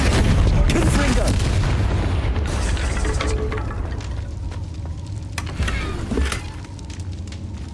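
Confringo fire spell explosions in the video game Hogwarts Legacy: a loud rumbling boom opens, followed by crackling bursts and sharper blasts that fade slightly, with game voices heard underneath.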